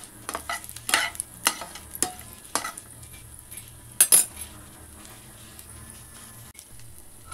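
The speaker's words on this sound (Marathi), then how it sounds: "इथे बदाम काप आणि काजू काप चांगले आपल्याला भाजून घ्यायचे आहेत तेलामध्ये," Sliced almonds and cashews roasting in ghee, a quiet sizzle punctuated by several sharp scrapes and clinks of a spoon stirring against the pan, then a lighter tail of frying.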